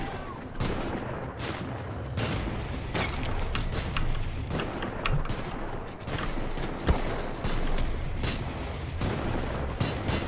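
Gunfire in the shooter Wolfenstein: The New Order during a prison level, sharp shots and heavier booms cracking out irregularly over a constant rumbling backdrop for about ten seconds, some close and loud, others more distant.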